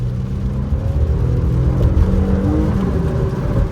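Infiniti Q50s engine revving loudly and steadily while the car slides on a rain-soaked road, a deep continuous rumble with rising and falling pitch heard from inside the cabin.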